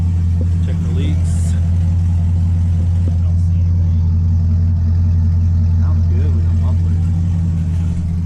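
A Corvette engine idling after a transmission repair, without its mufflers fitted, a loud steady low rumble held throughout, with faint bits of other sounds over it.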